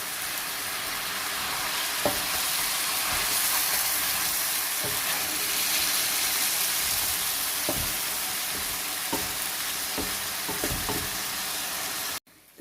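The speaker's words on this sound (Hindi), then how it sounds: "अब इसको भी हम भूनेंगे। इसको तकरीबन 1 मिनट हम इसको भूनते हैं।" Chicken karahi, dhaba style, fries in a pan with a steady, dense sizzle and hiss, broken by occasional soft clicks of stirring, with no voices over it.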